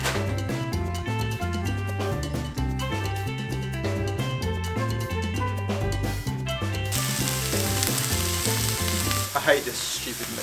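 Minced meat sizzles and crackles in a pan inside a camper van. A steady frying hiss grows stronger toward the end, layered over tonal, rhythmic background sound, with no talking.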